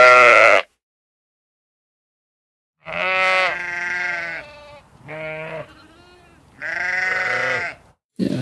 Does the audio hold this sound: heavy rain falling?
no